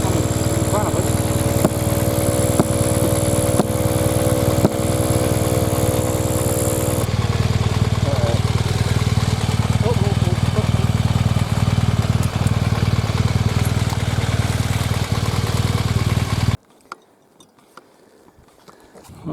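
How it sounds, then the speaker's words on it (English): Air compressor running hard while seating a tire bead, a loud continuous engine-like drone with a whining tone that shifts partway through, then cuts out abruptly near the end, leaving quiet with faint sounds. "We melted the compressor."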